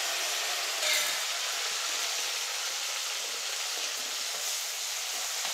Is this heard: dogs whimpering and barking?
no